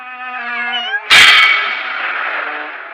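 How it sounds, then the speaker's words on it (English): A cat gives a long, drawn-out wailing meow, then lets out a sudden harsh, hissing yowl that fades away. Loud and close. "Meow, meow, meow."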